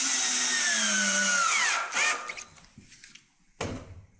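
A power drill drives screws into drywall while a hole in the wall is patched, whining loudly as it spins up, then winding down, followed by a short thud and a brief whir.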